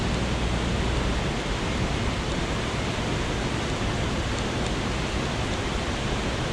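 Water rushes steadily over a dam, a broad, continuous roar of moderate loudness with no breaks and no voices.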